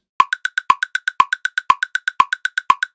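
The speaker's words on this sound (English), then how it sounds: "A 4-bar loop with a 16th subdivision with no swing applied sounds like this." A straight, unswung drum loop on a 16th-note grid: a louder accented hit every half second with lighter ticks evenly filling the gaps, fast, mechanical and steady with no voices.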